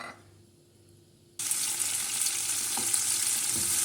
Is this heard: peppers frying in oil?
yes